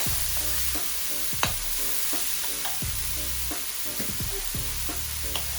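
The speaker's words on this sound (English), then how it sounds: "Chopped onion. I'm just gonna let it saute for 2 minutes." Chopped onion sautéing in a pan over low heat, a steady sizzle broken by repeated stirring scrapes and taps in an irregular rhythm, close and alone without any talking.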